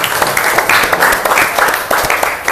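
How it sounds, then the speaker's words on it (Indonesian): Students in a class applaud together, a loud, brisk burst of clapping with uneven rhythmic swells lasting a few seconds. "berikan tepuk tangan dulu untuk kita semua"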